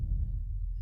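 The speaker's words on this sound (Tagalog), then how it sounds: "Bakit ang bilis ng tibok ng puso ko?" A fast heartbeat sound effect thumps low and steady throughout, a rapid throbbing pulse carrying alone with no voices over it.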